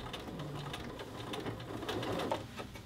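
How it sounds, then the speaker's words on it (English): A sewing machine stitches along a shirt collar band seam, running steadily and close with a soft continuous mechanical whir and rapid needle rhythm, no voices. "I literally am sewing right on the same stitching line."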